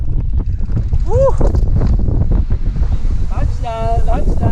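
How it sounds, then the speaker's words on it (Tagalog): Strong, steady wind buffets the microphone at a mountain summit on Dead Man's Trail, a loud continuous roar throughout, with people talking and cheering over it. "Ang lakas ng hangin."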